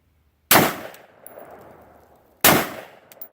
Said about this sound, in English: We're going to take 5 controlled shots as accurately as possible